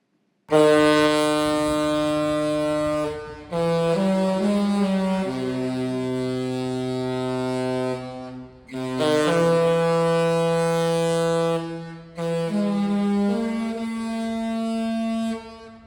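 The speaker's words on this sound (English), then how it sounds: "the ship's horn is the Love Boat theme. You can hear it here as we sail out" A loud, deep cruise ship horn plays the Love Boat theme while sailing out of Amber Cove, Dominican Republic, holding each long brassy note and sliding between pitches, with brief pauses between phrases.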